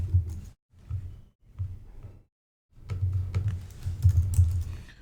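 Typing a short command on a computer keyboard at a terminal: quick bursts of clicking keystrokes broken by brief pauses, close and clear, with no talking.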